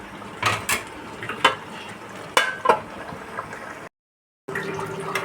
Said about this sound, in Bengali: দেখো আমপোড়া চিকেন আমি এখনও কষাচ্ছি।